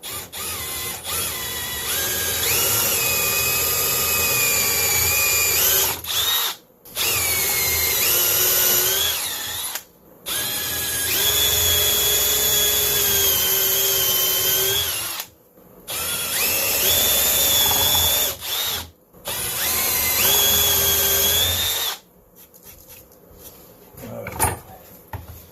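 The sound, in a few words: power drill drilling holes in wood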